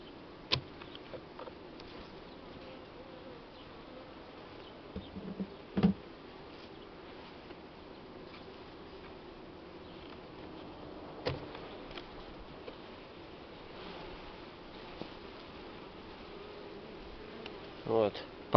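Honey bees buzz steadily around hive supers during a honey harvest, a soft continuous hum near and far, with a few faint knocks and clicks of handling.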